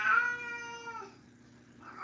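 A single house cat gives a drawn-out, clear meow that fades after about a second, followed by a softer second cry; close and alone with no talk.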